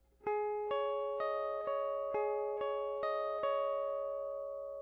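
Clean guitar notes are picked one at a time in an even, steady rhythm, ringing softly and alone in a quiet room.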